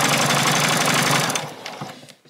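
A sewing machine back stitches around the edge of a fabric bag in a loud, close, steady whir that slows and stops partway through, followed by faint handling sounds.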